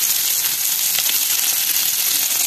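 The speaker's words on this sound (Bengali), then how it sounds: "রসুন দিয়ে দিলাম" Garlic dropped into a hot kadai of oil as a tempering for dal sizzles steadily, a dense continuous hiss close up with no voices.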